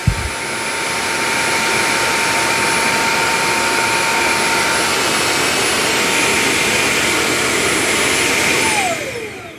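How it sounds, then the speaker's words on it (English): A Bissell CrossWave OmniForce cordless wet dry floor mop runs its cleaning cycle, a loud steady whirring motor drone with a high whine that holds for about nine seconds before spinning down. "So it's going to put solution down and then suck it up."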